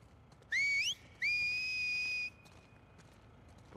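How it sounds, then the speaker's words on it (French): Whistling in The Last of Us Part II: two clear, rising whistled notes, the first short and swooping upward, the second a long steady tone that fades out, loud against a quiet game background. "Non, siffle pas, je te jure."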